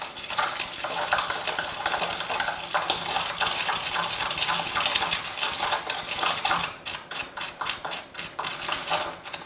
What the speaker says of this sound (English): all we gotta do is just give this a little stir around